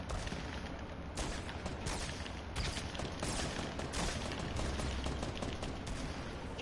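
Gunfire in the Fortnite video game, a dense, continuous barrage of bursts and rapid shots that stays loud and close for several seconds with no let-up.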